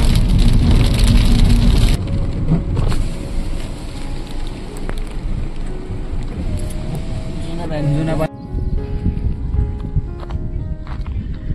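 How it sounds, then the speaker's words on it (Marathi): Heavy rain drums steadily on a car during a downpour with lightning around, a loud continuous wash of noise that drops in level partway through and keeps going. "पाऊस चालू झालाय खूप जोरात।"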